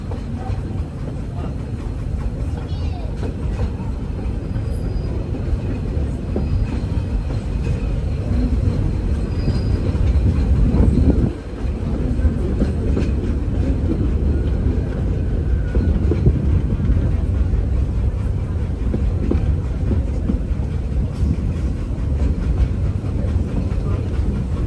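A Walt Disney World Railroad train runs in a steady, loud, close rumble, with faint clickety-clack from the rail cars throughout and a brief dip partway through.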